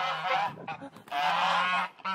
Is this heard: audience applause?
no